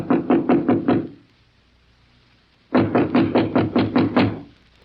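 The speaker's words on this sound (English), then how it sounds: "Then, squaring his shoulders, he knocked." Knocking on a door in a radio drama: two firm bursts of about five quick raps each, separated by a pause, close and alone with no talk.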